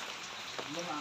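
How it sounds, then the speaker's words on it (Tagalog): Heavy rain drips and patters off a tarpaulin at a barracks on a construction site, a dense, steady wash of drops with a voice faintly underneath. "Ayan, so malakas-lakas na yung ulan. Ayan, oh, yung tulo ng ating trapal, oh."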